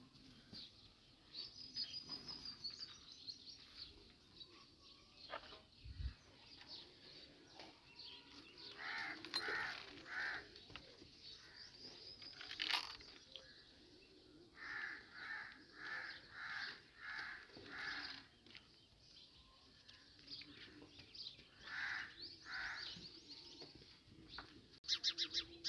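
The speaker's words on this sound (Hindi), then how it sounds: "चिड़ियाँ बोल रही हैं जी सुबह सुबह।" Birds chirp and call repeatedly in open air on a farm in the morning, with short rhythmic bursts of song and occasional harsher caws, moderately near with faint background hum.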